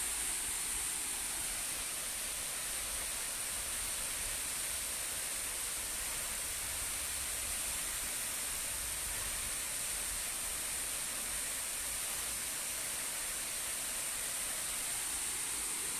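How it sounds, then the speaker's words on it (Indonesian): Rushing water beneath a waterfall on Samosir Island, a steady broadband roar holding constant and fairly faint throughout, with no voices. "Suara air akan menjadi sound effect daripada lagu-lagu yang kita bawakan."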